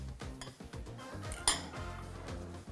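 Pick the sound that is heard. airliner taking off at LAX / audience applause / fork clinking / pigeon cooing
fork clinking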